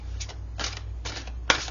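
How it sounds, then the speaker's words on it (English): A deck of fairy oracle cards is shuffled in a few quick, close riffling bursts separated by short pauses, with a sharper snap near the end, over a low steady hum. "I'm going to shuffle and deal you a fairy"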